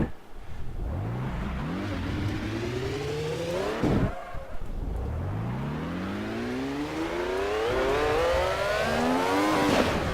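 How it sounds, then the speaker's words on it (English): A car doing burnouts, its engine revving hard in repeated rising sweeps with tire noise underneath, loud and close throughout. "This car does better burnouts than most cars."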